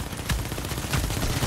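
An automated turret fires in The Division video game, a dense, continuous rattle of rapid gunshots in a short burst.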